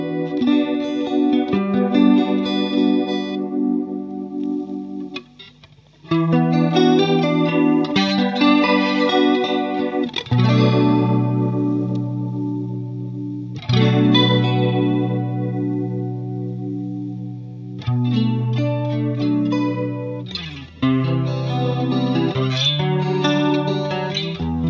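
Electric guitar through a Boss Chorus Ensemble pedal with the tone knob set midway, playing shimmering, wavering chorded phrases that ring out loud and steady, pausing briefly between passages with no talking.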